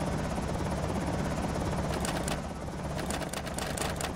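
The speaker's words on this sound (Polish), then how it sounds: "Słyszymy jakiś helikopter." A helicopter's steady rotor thrum fills the scene in the video game Project Zomboid, loud and continuous, with a few sharp clicks and chirps near the end.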